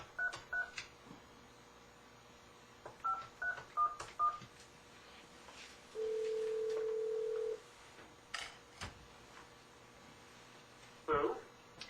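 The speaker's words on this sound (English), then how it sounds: "So I'm going to call him on the phone right now." A telephone number is keyed in on a phone, producing several short DTMF beeps in two groups, then a long steady tone, all close and clear against a quiet room with faint background talk.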